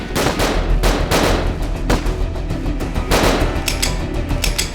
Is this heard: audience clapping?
no